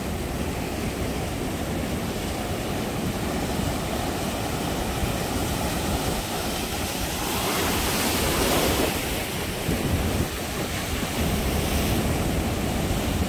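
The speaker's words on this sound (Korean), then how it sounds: "아니, 그렇게 센 파도도 안 오네." Ocean waves break and wash against the far corner of Gwangalli Beach on a windy day, a dense, continuous roar of surf with a swelling crash midway, no voices.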